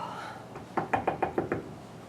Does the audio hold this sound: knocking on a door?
yes